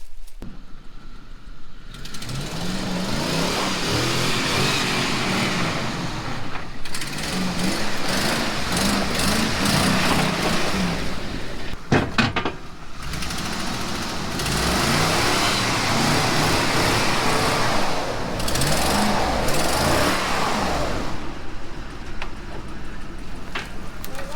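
Straight-piped Hemi truck driving onto ramps, a loud, rough engine rumble that runs almost continuously and surges and eases a few times as it creeps forward, with someone talking at points.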